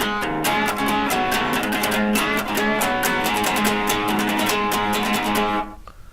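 Electric guitar plays the intro riff of a song in a live version, a busy, driving run of rapid strummed chords and single-note stabs, loud and steady throughout before cutting off abruptly near the end.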